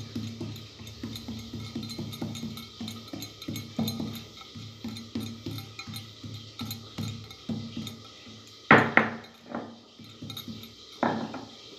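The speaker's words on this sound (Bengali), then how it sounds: "এখানে আমি রসুনটা আর আদা একটু বেটে নেব।" Garlic and ginger being crushed on a Bengali stone slab with a grinding stone (shil nora): a run of short rhythmic knocks and scrapes, close and moderately loud, with a few sharper clacks near the end.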